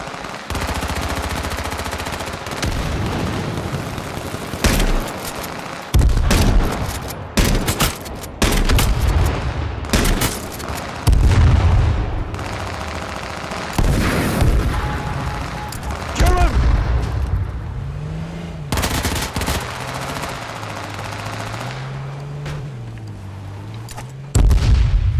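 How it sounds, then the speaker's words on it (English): The Liberty shotgun fires in the H1Z1 battle royale game amid a chaotic stretch of loud, repeated gunshot blasts with abrupt bursts and pauses, while a voice talks over the action. "What kind of gun is this? The Liberty shotgun?"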